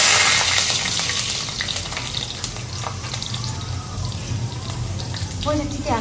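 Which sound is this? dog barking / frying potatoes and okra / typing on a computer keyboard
frying potatoes and okra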